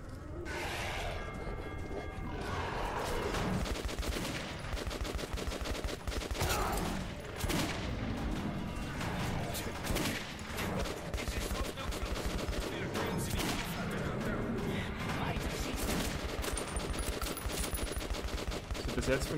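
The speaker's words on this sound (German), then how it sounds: "Eigentlich war der Schuss so unnötig." Gunfire in Metro 2033 Redux: a sustained, loud burst of rapid automatic shots with scattered impacts, continuous across the stretch, almost no talk.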